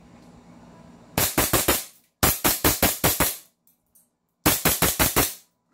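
Bursts of rapid, sharp cracks from a 2011 gas blowback airsoft pistol, loud and close, firing in three quick strings of about five to six shots each, separated by short silent pauses.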